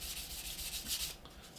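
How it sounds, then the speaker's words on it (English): A blue sanding sponge rubs over a plastic Revell Me 262 model kit part in short, light, rhythmic passes, a close dry scratchy hiss that fades near the end. "we're just going to pop in with a blue sanding sponge"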